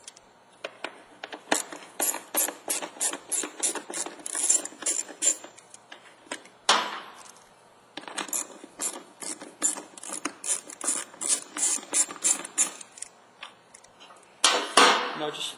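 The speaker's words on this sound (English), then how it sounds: "We have to remove these two screws And for this application, what we're going to need here is a 1/4 inch socket." A ratchet with a 1/4 inch socket removes two tail light screws on a GMC Yukon / Chevy Tahoe, giving close, quick bursts of clicking strokes in several runs with short pauses, no talking.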